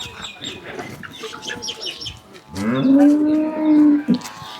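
A dairy cow on a farm lets out one loud, close, drawn-out moo after a few seconds of quieter clucking chickens and farmyard bustle.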